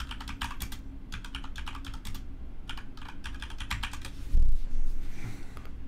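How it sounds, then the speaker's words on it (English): Fingers tap quickly on a computer keyboard in several clustered bursts of crisp clicks with short pauses between them, close by over a low room hum, and a brief dull thump near the end. "I'm having some typing problems tonight"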